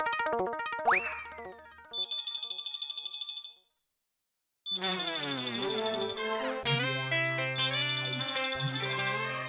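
An outgoing phone call rings through as a loud electronic ringtone of repeated bright, patterned tones. It breaks off for a brief silence midway, then resumes as a fuller repeating melody.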